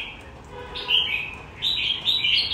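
A red-whiskered bulbul in moult sings bright, clear chirping phrases in short bursts, close and loud against a low background hum.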